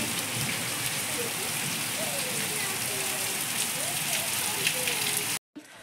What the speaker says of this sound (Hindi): भयंकर बारिश हो रही है यहाँ पे।